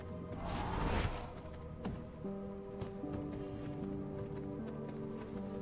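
Horse hooves clip-clop in V Rising, a short burst of galloping steps followed by a softer, steady trot under a droning game background.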